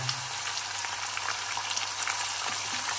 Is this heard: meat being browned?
yes